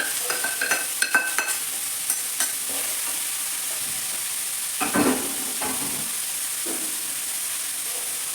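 Okra being stir-fried fast on high flame, a run of quick utensil clinks and scrapes against the pan at first, then a continuous sizzle with a couple of louder stirring bursts, no speech.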